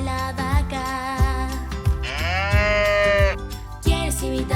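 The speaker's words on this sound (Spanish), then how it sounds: "Vamos a escuchar cómo hace la vaca." A cow moos in long, drawn-out lowing calls over a bouncy children's farm-animal song with a steady beat, the moo rising clearly above the music.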